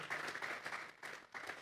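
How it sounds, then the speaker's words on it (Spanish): A church congregation breaks into applause in bursts of clapping, fairly close and full, with brief pauses between waves of claps. "Vamos a darle una ofrenda de palmas a Dios"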